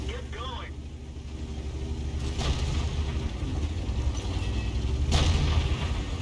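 Tank cannon rounds, including HE shells, fire and impact during a T95 tank battle in a video game, two heavy booms about three seconds apart over a rumbling engine bed, with a voice talking throughout.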